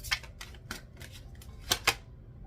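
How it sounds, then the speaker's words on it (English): Quiet papery slaps and riffles of tarot cards being shuffled, a few soft clicks then two sharper snaps near the end, close by. "Okay, I'm going to shuffle."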